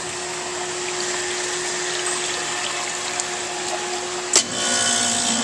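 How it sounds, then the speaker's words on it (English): A brand-new SAC 5-ton, 230-volt air-cooled chiller runs with a steady broadband whir and hum, then a sharp click and surge near the end as the compressor and condenser fans kick in, louder afterward. "So the delay just kicked in. And our compressor powered up. Both our fans are powered up."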